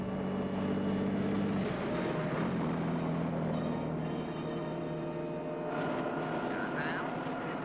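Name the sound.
helicopter flying, film scene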